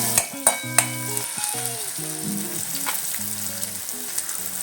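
Masala with turmeric and tomato frying in a pan for a masoor dal dish, a steady sizzle with a few sharp knocks and clinks of a spoon at the start and light mixing scrapes, close and without talking.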